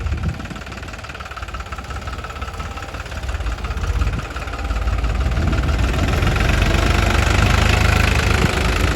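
A tractor engine runs steadily in a farm field while preparing land for sowing, a continuous low knocking rumble that grows louder and heavier about halfway through, close by with no talk.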